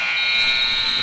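A loud, steady basketball game clock buzzer blares continuously for about a second, a harsh sustained tone sounding on its own.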